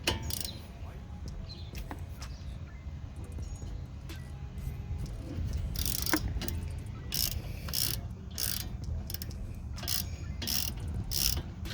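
A ratchet with a 13mm socket works a brake caliper bolt on a Ford Focus ST, giving bursts of rapid clicking, near and fairly loud, over a faint background hum.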